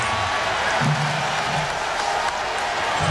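Large stadium crowd at a college football game, Washington at USC in 2010, moments after a Washington touchdown takes the lead; a steady, dense roar of noise fills the whole stretch, with a commentator talking over it.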